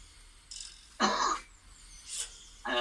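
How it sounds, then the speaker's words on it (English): Three or four short, harsh coughs, each a separate burst with pauses between, fairly close and with no talking. "I was coughing, sorry."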